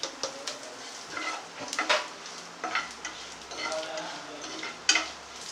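Asafoetida powder frying in hot oil for a sambar tempering: a close, crackling sizzle with a spoon scraping and stirring through it in uneven bursts.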